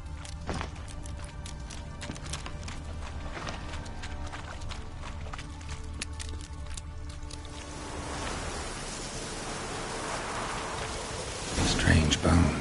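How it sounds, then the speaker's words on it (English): Rain falls in a video game as a steady, soft hiss that stays under a voice and music before swelling louder near the end. "Looks like rain."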